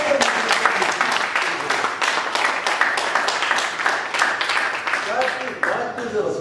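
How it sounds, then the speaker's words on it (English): A Toastmasters club meeting audience claps together in a big round of applause, a dense steady patter of many hands that runs throughout, with voices faintly mixed in underneath. "A big round of applause because you started before the meeting."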